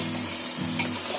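Prawns and mixed vegetables frying in oil inside a pressure cooker, a close, steady sizzle with a soft stirring scrape, heard briefly on its own.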